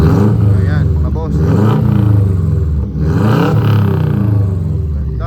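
A Subaru Forester 4x4 automatic engine revs lightly and steadily up close, a loud continuous drone rising and falling in gentle swells for several seconds.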